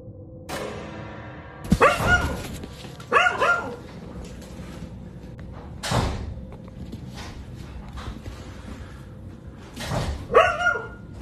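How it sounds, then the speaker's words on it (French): A dog barks in sharp, spaced bursts, several loud yelps with whimpering between them, close and agitated, frightened by something in a basement. "Il a commencé à enregistrer car son chien aboyait terrifié par quelque chose"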